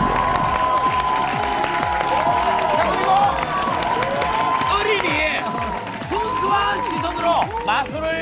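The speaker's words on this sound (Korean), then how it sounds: "유지 양세 씨를 큰 박수로 해시기 바랍니다." A crowd claps steadily with some cheering and scattered voices, a sustained round of applause under a busy room ambience.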